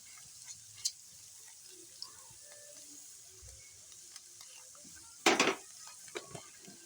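Masala with whole black peppercorns, chili and salt fries in a pan for a chicken yogurt tikka curry, giving a faint, low sizzle broken by scattered clicks of a spoon and one loud scraping stir.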